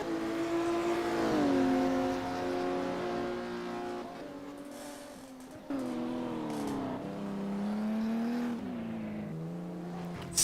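Classic Porsche race car engine in a sim racing game, a steady loud drone that climbs and falls through gear shifts for the whole stretch, with no talk over it.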